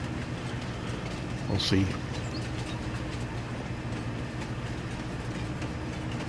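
A train rolls along steadily in Farming Simulator 22, a continuous low rumble of wagons with faint rhythmic clatter, while someone briefly speaks over it.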